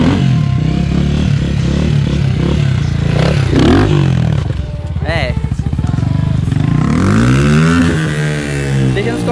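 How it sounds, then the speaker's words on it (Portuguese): A Honda CRF dirt bike revs hard and spins in place, engine rising and falling in loud bursts with scraping clatter, while people talk and shout nearby throughout. "Dizendo ele que vai mandar um zerinho agora na minha moto"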